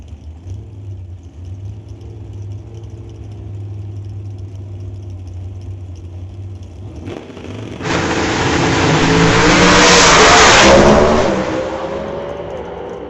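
Drag racing cars at an old-time drag strip, including a Camaro, idle with a low rumble, then one engine roars loudly as it revs and launches, its noise swelling and then fading as it pulls away.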